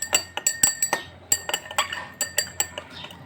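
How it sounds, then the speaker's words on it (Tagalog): A glass stirring rod clinks rapidly against the side of a glass container while mixing a perfume blend, producing a close, bright, irregular series of tinkling taps with no talking. "Stir natin siya, guys. Using ng stirring rod, stir natin siya."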